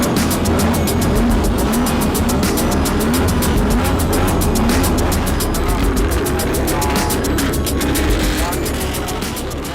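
A customized Lamborghini sports car with a steady, rapid engine and exhaust pulse that continues throughout, loud and close, with a voice talking over it.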